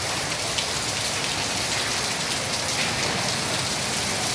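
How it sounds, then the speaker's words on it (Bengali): Heavy rain pours during a Kalbaishakhi storm, a dense, constant roar of drops on surfaces with no pauses and no voices. "প্রচুর পরিমাণ বৃষ্টি"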